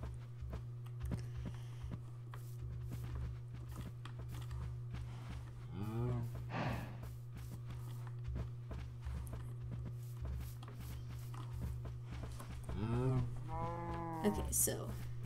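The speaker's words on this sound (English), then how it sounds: "There's some cows." Cows on a Minecraft farm give two drawn-out moos, about seven seconds apart, over a steady game hum with footsteps and occasional talk.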